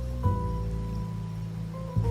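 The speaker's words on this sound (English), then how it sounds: "Rain's back." Steady, soft rain patter in a gacha fantasy video game fills the clip as a continuous low wash, with a faint sustained tone and a couple of brief muffled bumps.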